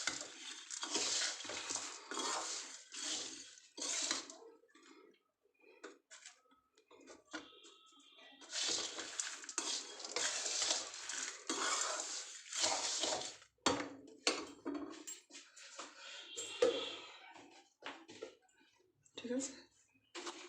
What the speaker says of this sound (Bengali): গরম কড়াইতে এটাকে ভালো করে মাখিয়ে নিচ্ছি